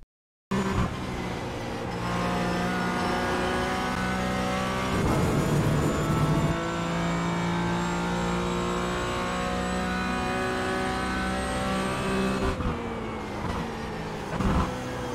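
A GT4 race car at Lime Rock in iRacing holds a steady engine drone that climbs slowly in pitch as it accelerates, with a gear change around five seconds and another near twelve, no talk.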